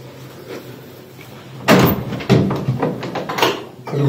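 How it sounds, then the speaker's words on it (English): A door is pulled open with a sharp knock and clatter, followed by a few thumps and rattles as it swings and settles, fairly close and alone with no talking. "can you open the door there for a sec"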